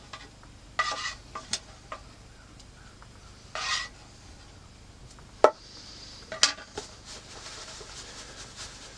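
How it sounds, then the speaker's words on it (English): Food chunks being stirred in batter inside a yurt kitchen: soft wet squelches and scraping swishes come in short irregular bursts, with a couple of sharp clinks, close up and fairly quiet. "Mix them around in that batter real good."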